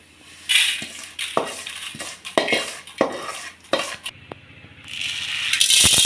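Roasted curry leaves are scraped and stirred out of a pan, giving repeated metallic scrapes and clinks of a spoon against cookware, close and fairly loud, with a soft sizzle and rattle near the end.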